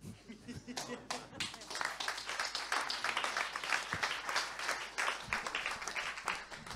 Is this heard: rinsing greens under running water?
no